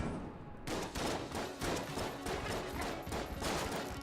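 Rapid, loud gunfire from the Enter the Gungeon video game, a dense fusillade of shots in quick rhythmic bursts that starts abruptly and continues steadily without talk.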